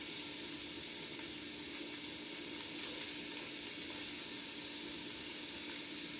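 Chopped onion sizzling in hot olive oil, a steady, soft, continuous hiss of frying that holds evenly throughout with no talking.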